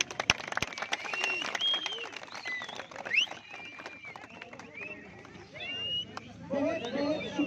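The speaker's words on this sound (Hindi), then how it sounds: "बच्चों तालियां आनी चाहिए बच्चों तालियां" Children clap at the closing ceremony of a 2021 volleyball tournament in Skardu, scattered outdoor applause mixed with crowd chatter and a voice over a loudspeaker, building louder toward the end.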